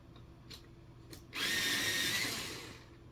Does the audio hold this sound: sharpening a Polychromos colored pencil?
yes